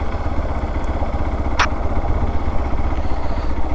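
A Hero Xpulse 200 4V off-road motorcycle idles nearby with a steady, low, throbbing engine note, broken once by a brief sharp chirp.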